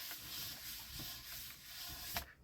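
Paper being rubbed down by hand onto a painted Gelli plate to lift a print, a soft steady scuffing hiss close to the ear with a few firmer strokes near the end.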